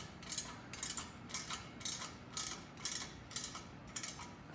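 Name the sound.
tightening parts on 1967 Schwinn Typhoon bicycle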